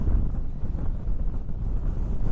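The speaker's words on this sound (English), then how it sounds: "Looking that way, because it is quite windy." Strong wind buffeting an exposed hillside near a cliff edge, a steady low roaring rumble across the microphone, loud and continuous with no voices.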